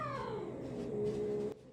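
A house cat gives one drawn-out meow that falls in pitch and then holds steady before cutting off, heard close and at moderate volume with no talking.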